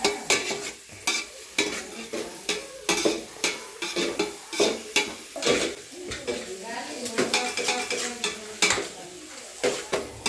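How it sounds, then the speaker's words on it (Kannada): Chopped onions frying on a low flame in a home kitchen, a spoon repeatedly stirring and scraping against the pan in an uneven rhythm over a soft sizzle, close by. "ಸರಿ ಒಂದು ಫ್ರೈ ಮಾಡಿ ಸ್ವಲ್ಪ ಲೋ ಫ್ಲೇಮ್ ಇಟ್ಕೊಂಡು ಫ್ರೈ ಮಾಡಿರಿ."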